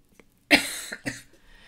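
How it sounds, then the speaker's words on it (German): A single sharp cough, close and fairly loud, followed by a second smaller cough and a faint throat-clearing rasp. "Entschuldigung, ich muss husten."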